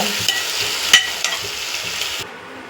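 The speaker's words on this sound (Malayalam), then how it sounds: "നാരങ്ങ നീരെല്ലാം ഒഴിച്ച് കൊടുക്കുക. എന്നിട്ട് നന്നായിട്ടൊന്ന് ഇളക്കുക." Food mixed with lemon juice stirred in a pan, with a few distinct scraping knocks over a soft sizzle, then dropping away near the end.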